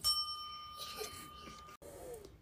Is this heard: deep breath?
no